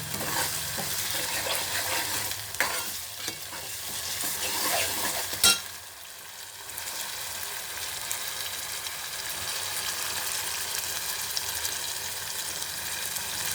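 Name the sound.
onion, ginger-garlic paste, green chilli and curry leaves frying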